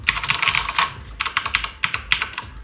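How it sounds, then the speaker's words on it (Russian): A Corsair K63 mechanical keyboard clacks under quick typing, crisp bright keystrokes arriving in fast clustered bursts with short gaps, close-miked and loud. "Ну, клавиатура механическая, да."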